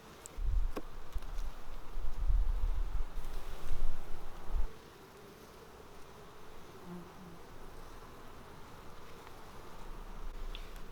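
Honey bees buzzing around a beehive, a dense steady drone of many insects nearby, louder at first with some handling bumps, then a softer continuous hum.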